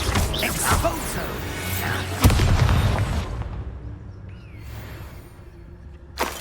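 An Exposo explosion spell in Hogwarts Legacy goes off with a sharp loud blast around two seconds in, followed by rumbling debris that fades, then a second brief burst near the end.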